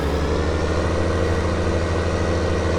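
A Ford tractor engine idles on a farm with a steady, low, even rumble that stays constant throughout.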